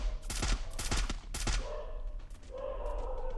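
Rapid bursts of gunfire in a battle royale shooter match, several loud clustered volleys in the first half followed by a lower sustained in-game hum with scattered softer shots.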